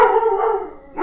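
Nearby dogs give a drawn-out, loud howl that slides downward in pitch, followed by a short pause and the start of another bark-howl, with no talking.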